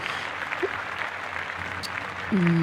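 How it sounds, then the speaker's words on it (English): Applause rattles on steadily for a couple of seconds as a continuous patter of clapping, with a brief tonal sound cutting in near the end. "clap it up"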